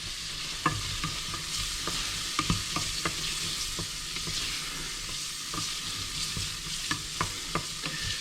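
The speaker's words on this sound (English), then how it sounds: "And I'll go ahead and stir that around." Onions with ground rosemary and black pepper are stirred around a frying pan, a continuous sizzle broken by regular scraping knocks of the spoon at close range, with no talking.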